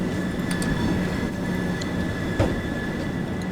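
Train running on the East Coastway line in Train Sim World 2, a steady rumble of wheels on track with faint squeals and a small clack near the middle.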